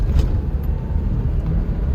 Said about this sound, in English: It does sound really nice when you put your foot on the gas.